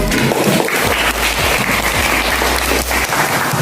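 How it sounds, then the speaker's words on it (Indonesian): A classroom claps together, with dense, continuous hand clapping from a group that stays steady and fairly close for a few seconds. "Oke, beri aplaus untuk."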